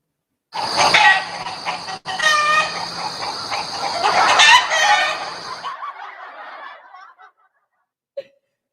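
A flock of hens cackling and clucking loudly and excitedly up close, a busy overlapping burst of calls with a sharp break partway through, fading out with one brief late call.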